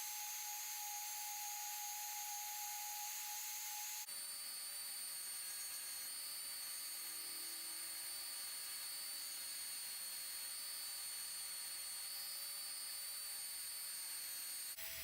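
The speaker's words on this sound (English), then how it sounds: "Now I'm going back in with those EviFlex wheels and discs and cleaning up and polishing the whole pommel." A rotary tool runs with EviFlex abrasive wheels and discs, cleaning up and polishing the pommel of a dagger. It gives a steady high-pitched whine that stays loud and continuous throughout and shifts slightly in pitch as the work changes.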